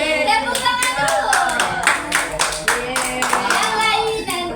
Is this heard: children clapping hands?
yes